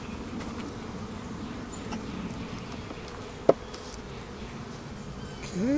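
Honeybees buzz in a dense, steady drone around an open hive frame with newly built comb, holding constant throughout, broken by one short sharp click near the middle.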